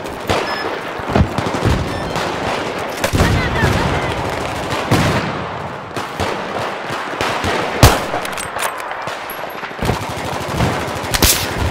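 Battlefield 3 gunfire crackles in rapid bursts and scattered single shots, loud and dense, with one sharp, prominent sniper crack standing out amid the ongoing firefight.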